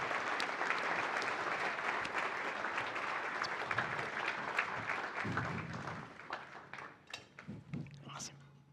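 An audience applauds to welcome keynote speaker Spencer West to the stage at a 2018 youth leadership event, full clapping that thins and fades toward the end as scattered claps and faint voices remain.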